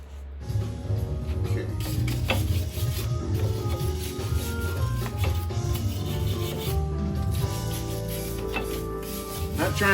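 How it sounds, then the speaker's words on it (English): Heavy rust spots are scrubbed off a 2006 Chrysler 300 wheel hub, a continuous close rasping, rubbing scrape with uneven strokes and occasional squeaky tones. "I'm trying to get those heavy spots of rust off of it"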